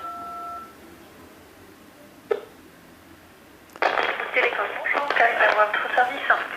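A telephone keypad tone sounds briefly on an automated customer service line, followed by a longer stretch of recorded prompt or hold audio.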